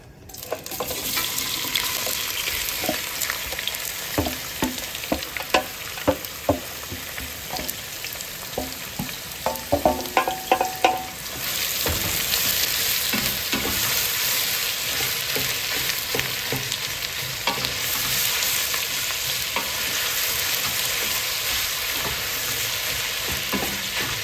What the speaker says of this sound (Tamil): இப்போ நீங்கள் என்ன செய்கிறீங்கன்னா வெங்காயத்தை போட்டு நல்லா கொஞ்சம் பதக்குறீங்க.